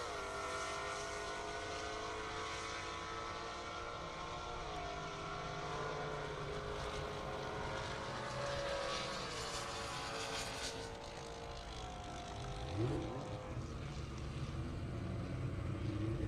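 A 2009 BMW M3 and a 2021 Dodge Hellcat drag race down a half-mile airport strip, a sustained loud engine roar with shifting tones heard from a distance through steady wind-like noise.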